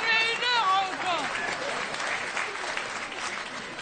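A theatre audience claps at a comedy show, loud dense applause that follows a brief whistle-like vocal sweep at the start and then carries on steadily, with a voice briefly audible over it early on.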